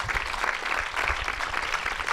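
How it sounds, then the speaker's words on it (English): Warm applause from an audience at a film discussion event as an actress present in the room is acknowledged; steady clapping of moderate loudness lasts about two seconds. "Should we give her an applause?"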